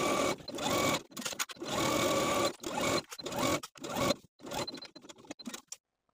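A sewing machine stitches over the side seam of a wrap skirt, close bursts of rapid needle chatter broken by short pauses, ending in silence.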